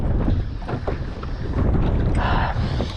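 Strong wind buffets a microphone on a small fishing boat in Moreton Bay, a loud steady roar with gusts and water noise around the hull.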